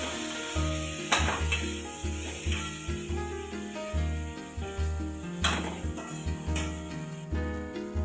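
Finely chopped tomato stirred into a pan of kanda pohe, with soft sizzling and rhythmic scraping strokes under prominent background music.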